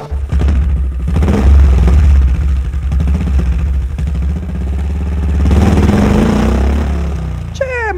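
A motorcycle engine effect in a Romanian radio comedy sketch, loud and close, revving and rattling throughout and rising again toward the end, with voices talking over it at times.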